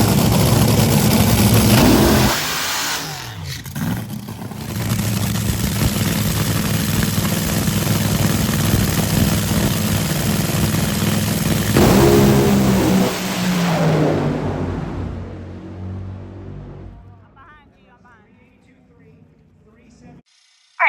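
Top fuel dragster roaring down the strip at an NHRA drag race, a loud sustained engine blast that breaks a few seconds in, builds again, then fades as the car shuts off after going into tire smoke.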